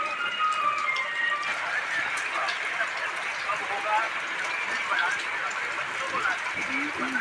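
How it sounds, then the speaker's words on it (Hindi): Steady rain falls outdoors at a farm field during pea sowing, a continuous even hiss on surfaces at moderate level, with voices talking faintly over it. "यहाँ पे हो रही है बारिश"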